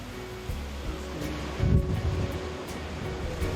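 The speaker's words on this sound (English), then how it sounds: "The wild waves that once shaped the coastline today draw surfers from all over Europe." Atlantic surf along the Algarve coastline rumbles as a low, steady wash with a swelling wave surge midway, heard from a distance against wind noise.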